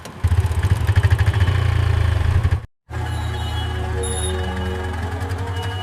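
An auto rickshaw engine chugs with a fast, loud pulsing beat, cuts out briefly, then settles into a steady running drone with clattering rattles.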